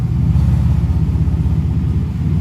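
A Mercedes SL600 engine idles in first gear on a freshly installed transmission with a low, steady rumble, heard close and loud and pulsing evenly throughout.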